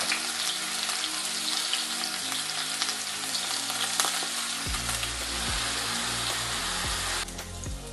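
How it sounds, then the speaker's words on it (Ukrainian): Steady loud sizzling of whole pieces of meat frying in a hot pan for Polish goulash soup, a dense crackling hiss that carries on throughout without speech. "як я кидаю м'ясо ціле зразу на сковороду"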